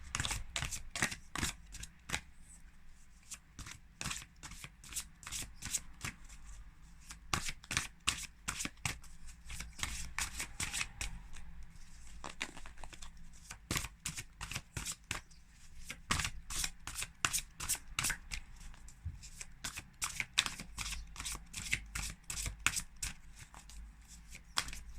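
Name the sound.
shuffling oracle cards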